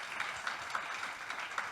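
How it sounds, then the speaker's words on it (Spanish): Quiet audience applause follows a debate at a talk on C++ in the video game industry, a soft, distant patter of clapping with a few sharper claps standing out. "Un aplauso para esta gente."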